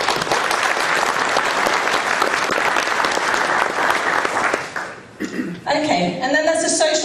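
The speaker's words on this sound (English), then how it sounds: "So can we just give them a little bit of" An audience at a network operators' spring meeting claps for about five seconds, loud and sustained, then the applause breaks off and a person begins talking.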